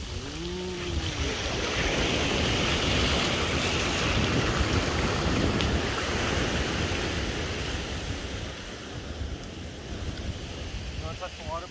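Ocean waves wash and roar continuously with strong wind noise; a voice is briefly heard near the start and end.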